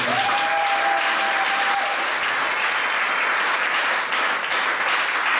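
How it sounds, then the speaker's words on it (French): A church congregation bursts into sustained applause for Jesus, a dense, even roar of many hands clapping from start to finish, loud and full with no pause. "Alors il faut acclamer Jésus pour son nom."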